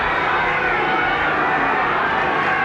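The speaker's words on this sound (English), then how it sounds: "Good-natured, friendly boos from the St Helens crowd for Henry Paul" St Helens rugby league crowd booing Henry Paul, a broad, steady wash of many voices filling the stadium at even volume.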